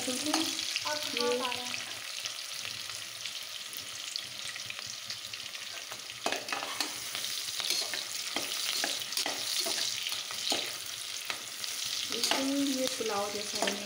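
Soybeans for a pulao fry over a full flame in a pan, with a steady loud sizzle and frequent stirring scrapes throughout.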